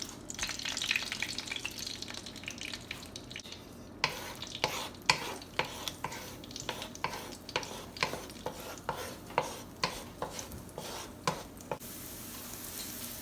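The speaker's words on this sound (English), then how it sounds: "Now you put your eggs and make it into scrambled eggs." Eggs being scrambled in oil in a pan while making idiyappam mix: a continuous frying sizzle, then a run of sharp, regular spatula taps and scrapes against the pan.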